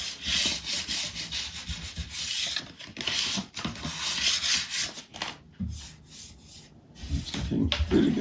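Hand sanding a wooden Hepplewhite-style carver chair with 7000 grit sandpaper, a steady close scratchy rubbing in back-and-forth strokes with brief pauses.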